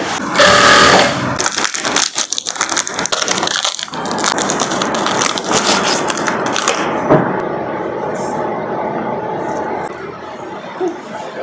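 A sewing machine stitches the folded hem of a short gown, running in loud close bursts of rapid mechanical clatter with brief pauses, then settling into a steadier, quieter hum.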